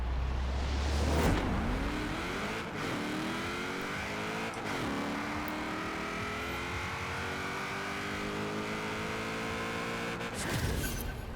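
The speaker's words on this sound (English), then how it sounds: "You heard me like smack my limiter." LS-swapped car in Forza Horizon 4 holding a steady high-rpm drone against the rev limiter, with brief gearshift dips and rising pitch sweeps, loud and continuous with no talking.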